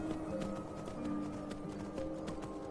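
Hooves of an immortal black horse in the video game Skyrim, a steady clip-clop trot repeating at a quick, even pace over a constant game ambience.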